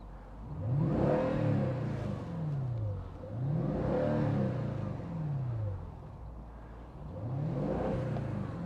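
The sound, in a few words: Mercedes-Benz E500 V8 cabriolet engine revving, exhaust note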